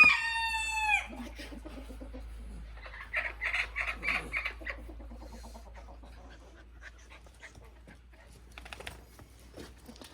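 A rooster crows loudly at the start, followed by hens clucking and chattering nearby, with scattered faint farmyard noises and a low steady hum underneath.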